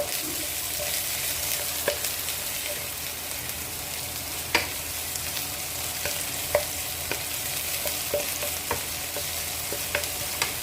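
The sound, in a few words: onion being stir-fried and stirred in a pan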